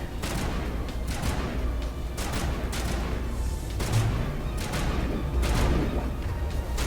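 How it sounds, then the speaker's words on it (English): Rapid gunfire from cover in the video game Mass Effect, with dense, continuous bursts of shots and impacts that sound loud and close over a rumbling game mix. "Just trying to shoot out of cover, but it's not really working well."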